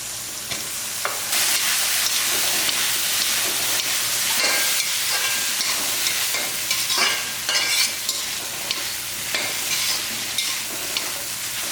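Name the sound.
sautéing meal maker (soya chunks) with tomato and onion in a pan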